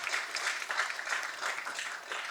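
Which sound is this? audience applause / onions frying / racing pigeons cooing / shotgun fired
audience applause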